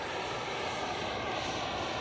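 A Freewing Avanti S 80mm RC jet plane passes in flight with a steady, loud, airy engine whine that holds evenly throughout, with no talking.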